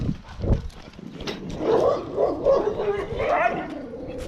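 A dog barks and yips several times in short, irregular bursts at moderate distance, rising in intensity toward the end.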